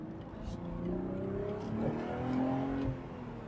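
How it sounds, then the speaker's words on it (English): A 2025 BMW Z4 M40i straight-six engine revving up and easing off, deep and throaty, heard from inside over road noise, with a voice speaking faintly beneath it. "BMW straight sixes have always sounded very good and soulful and characterful and deep."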